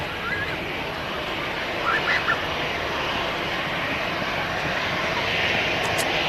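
EasyJet Airbus A320 airliner at Manchester Airport, a steady broad jet roar holding at constant loudness throughout, heard from a distance with faint bird calls in the background.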